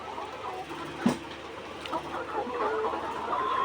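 Laying hens cluck in scattered, overlapping calls inside a 1,200-bird poultry farm, moderately near and fairly quiet, with one sharp knock just after the first second and a busier murmur toward the end.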